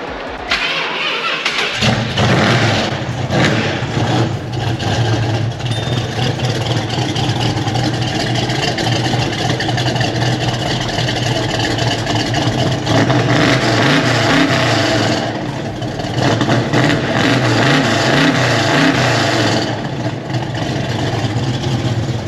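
A motorbike engine starts up with a sharp catch, then runs and revs loudly at close range, the throttle rising and falling in waves over about twenty seconds.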